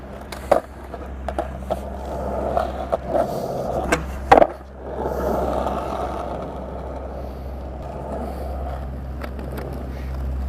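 Skateboard wheels roll steadily on pavement with a series of light clacks and knocks, then one sharp loud thwack as the board crosses a crack, followed by continued rolling rumble.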